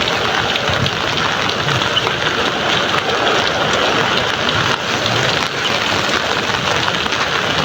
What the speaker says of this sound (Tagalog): Ayan guys lakas ng ulan